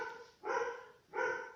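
Dogs give two sharp, close barks separated by a short pause, with nothing else audible around them.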